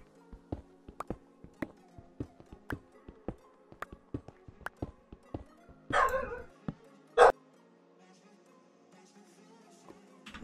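In a Minecraft farm modpack game, a dog lets out two short, sharp barks amid a quiet run of small rhythmic clicking and tapping sounds.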